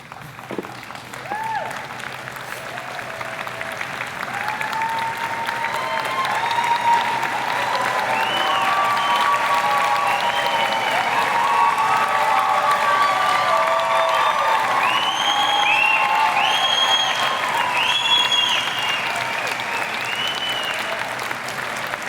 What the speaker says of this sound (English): Could you please withhold your, your applause until the end of the oath?